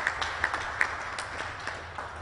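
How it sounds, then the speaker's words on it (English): Applause from an audience at a Shreveport officials' announcement about hosting the Bayou Classic, a modest, steady round of clapping with a few sharper individual claps standing out, heard at moderate distance. "Give them a round of applause,"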